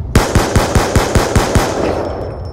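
Rapid automatic gunfire in a Search and Destroy match of an online shooter video game, about nine loud evenly spaced shots in a quick burst that then stops, with no talk.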